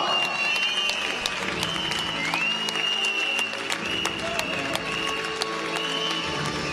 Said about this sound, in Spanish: tenemos un fortísimo aplauso a los integrantes de este podio paleta cuero masculina